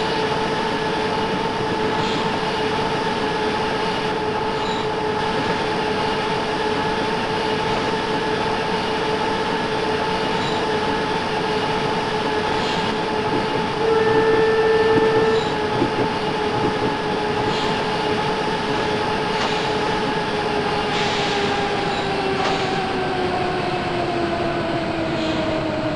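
A Berlin U-Bahn U2 subway train running between Olympiastadion and Wittenbergplatz, a steady loud rumble with a sustained motor whine and faint rail clicks throughout, heard from inside the car, no voices.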